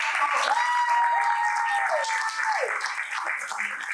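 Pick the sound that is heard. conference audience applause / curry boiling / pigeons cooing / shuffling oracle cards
conference audience applause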